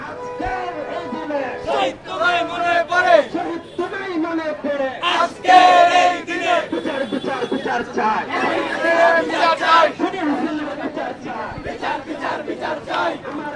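A large crowd of students chanting slogans at a TSC protest in Dhaka: loud rhythmic shouted chants from many voices, with a leading voice and crowd responses, continuous and energetic throughout.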